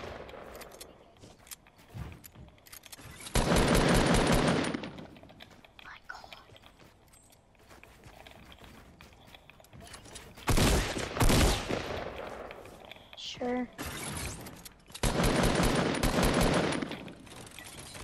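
Bursts of automatic gunfire from Call of Duty come in three loud clusters of rapid shots, separated by quieter stretches where people talk.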